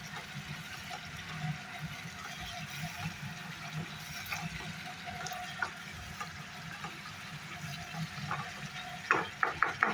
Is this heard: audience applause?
no